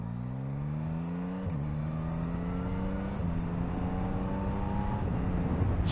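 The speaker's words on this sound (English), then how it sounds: "Oh, I like the character of this engine a lot." A 2024 Yamaha MT-09 motorcycle's engine heard from the saddle while riding, a steady close drone with engine tones rising and stepping down through gear changes, continuous wind and road noise around it.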